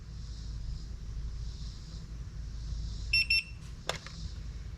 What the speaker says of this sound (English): hold this button down, turn on the transmitter, we should hear a couple of beeps